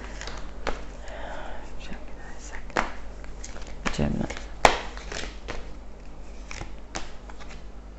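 Tarot cards are pulled from a deck and laid down in quick papery snaps and soft shuffling rustles, close up, with a faint murmuring voice underneath.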